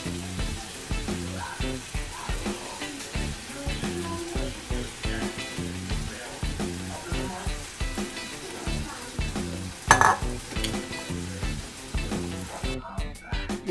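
Chayote and green beans sizzle in a hot pan for a vegan vegetable stir-fry, a constant crackling fry broken by the scrape and clatter of stirring.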